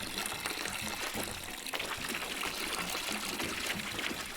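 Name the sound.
water pouring into brew container in Brewmaster video game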